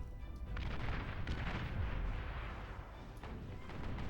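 Artillery shells pounding medium tanks in the real-time strategy game Beyond All Reason, a dense continuous rumble of booms and blasts with sharper impacts scattered through, loud and unbroken without speech.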